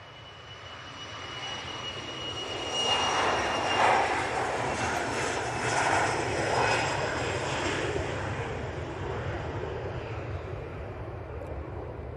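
Jet airliner departing Manchester Airport bound for Antalya, a broad steady engine roar that swells around the third second and holds loud before slowly easing as it climbs away.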